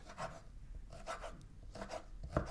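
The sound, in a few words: knife chopping food into slivers on a board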